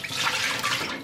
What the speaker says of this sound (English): I'm just going to throw the water that I used to soak my rice paper